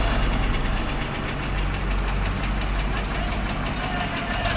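A Zetor tractor's engine runs at a tractor rally, a loud, rough, knocking diesel drone that stays steady and close throughout, with no voices over it.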